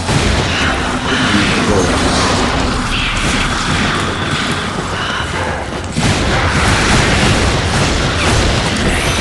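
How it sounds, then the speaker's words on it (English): Gunfire from a shooter in the video game Darkwatch: dense, loud, continuous volleys of shots and booming blasts pound without pause, blending into a thick wall of combat noise. "there's a guy shooting!"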